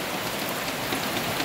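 Rainy-season rain falls steadily near a small hut, a dense, even hiss of drops hitting surfaces with no pause, fairly soft and alone.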